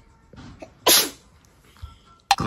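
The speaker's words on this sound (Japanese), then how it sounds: "くしゃみをしていた。" A child's sneeze rings out once, sharp and loud, during household cleaning chores, with a few faint knocks and rustles around it.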